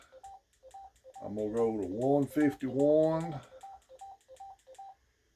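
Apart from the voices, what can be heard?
Yaesu FT-4x radio keypad beeps while setting tone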